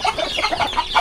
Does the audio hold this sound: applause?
no